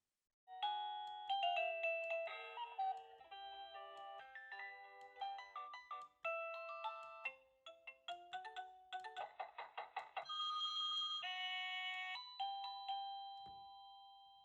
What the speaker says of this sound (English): choose which one of the 52 different chimes or songs you'd like to hear.